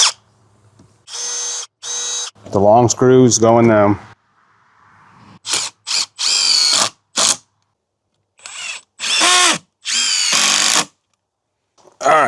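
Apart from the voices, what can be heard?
power drill pre-drilling holes in composite railing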